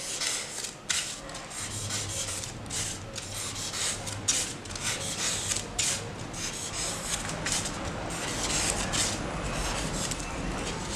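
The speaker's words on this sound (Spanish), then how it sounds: "vamos a usar el bisturí pequeño. Este ya pues nos va a ayudar a tallar más hasta llegar a la línea" Small scalpel blade carving and scraping styrofoam to shape a round planter, giving steady rasping, rubbing strokes close up, with brief crisp bursts repeating throughout and no talk.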